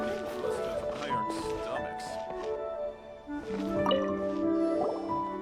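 Soft liquid drips and squishy water sounds in the game Genshin Impact play over layered musical tones, with a brief dip in volume midway.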